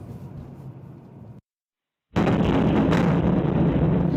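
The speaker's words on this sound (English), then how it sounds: "A terrifying explosion filmed outside and inside." A rocket explosion striking an apartment block in Kiev, heard as a muffled rumble that cuts to silence, then a sudden loud, sustained roaring blast of broadband noise.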